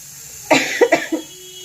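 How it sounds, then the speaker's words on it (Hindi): A short burst of coughing, three or four quick coughs in a row, close and fairly loud, with a quiet hum behind. "खांसी भी हो गई है।"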